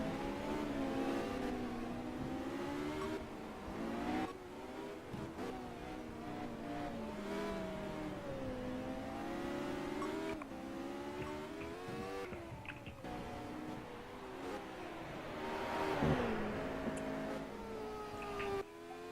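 Ariel Atom V8 race cars in a sim racing game, their engines howling continuously with rising and falling revs as several cars run close together, loud throughout with no talk.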